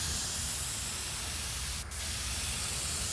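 Spray gun fed by an air compressor at about 50 psi, spraying orange paint onto a jon boat; a steady, loud, close hiss runs throughout with a brief break near the middle.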